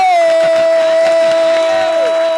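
Audience cheering and applause welcome an honoured guest, a young salsa singer, with crowd noise filling the whole stretch; a loud sustained tone, likely a horn or feedback, runs steadily underneath.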